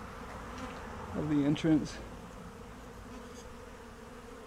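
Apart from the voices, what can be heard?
bees at a hive entrance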